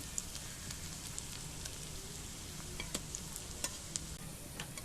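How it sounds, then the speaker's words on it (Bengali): Fish shallow-frying on a low flame gives a soft, even sizzle with scattered faint pops and crackles, steady throughout at a modest level. "চুলা মাছটাকে কম করে ভেজে নিতে হবে"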